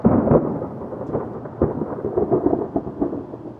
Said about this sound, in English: That was lightning very close.